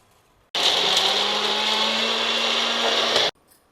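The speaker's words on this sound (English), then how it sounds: "Now we will add the curry leaves also and blend it together." Kitchen blender grinding curry leaves with other ingredients into a coarse powder, a loud steady whirring run of about three seconds that starts and stops abruptly, close up, with no talking.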